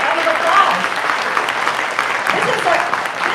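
Applause at an Asian American Pacific Islander Heritage Month celebration, a steady moderate crowd clapping with faint voices mixed in.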